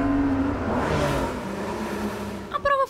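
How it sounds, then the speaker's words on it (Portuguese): A Porsche Cayman GTS coupé drives through tight corners on an indoor kart track in Italy, its engine droning and revving steadily close by, ending in a short burst of sharper sounds. "mostra o carro em curvas apertadas"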